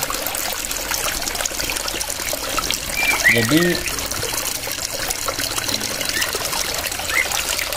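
Shallow water trickles steadily in a small artificial waterfall in an aviary, with a person speaking briefly over it.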